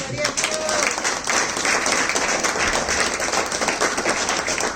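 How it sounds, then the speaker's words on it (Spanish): A church congregation breaks into loud, sustained applause, dense clapping filling the space evenly from start to finish, with a voice faintly audible early on beneath the noise. "Denle un fuerte aplauso a Dios."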